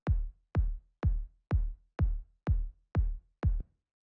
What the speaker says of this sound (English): the first sound that we have here, we're at 125 BPM, is the kick,